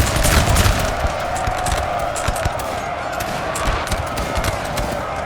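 Musket volleys crackle across a Napoleon Total War battle of the 1793 Battle of Famars, a loud, dense, continuous fusillade of overlapping shots with rolling distant rumble and no pauses.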